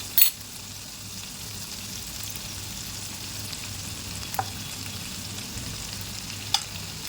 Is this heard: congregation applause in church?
no